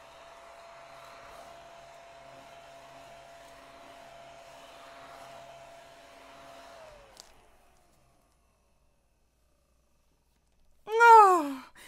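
A battery-powered Starfrit desk vacuum cleaning a work surface gives a faint, steady whirring hum for about seven seconds, then winds down into silence before a brief, sharp squeaky sound near the end.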